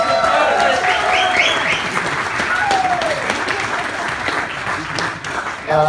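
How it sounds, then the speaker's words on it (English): Wedding guests applaud steadily and loudly in a full room, with cheers and voices mixed into the continuous clapping throughout. "I think they deserve yet another round of applause"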